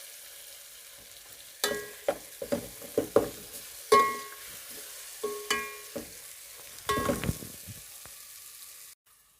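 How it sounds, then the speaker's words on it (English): Tomatoes frying in a pot for beef pilau are stirred with a series of sharp scrapes and clanks over a steady low sizzle, the strokes coming in irregular bursts through the middle of the clip, with no talking. "Then I'm going to stir it. I'm still waiting for the tomatoes to get soft."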